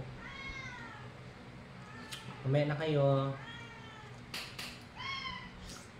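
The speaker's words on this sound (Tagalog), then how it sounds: "Mga pusa mo, umiyaw na umiyaw." Several cats meow repeatedly, one loud drawn-out cry in the middle and shorter mews around it, with a person speaking briefly nearby.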